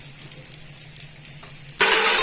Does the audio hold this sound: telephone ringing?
no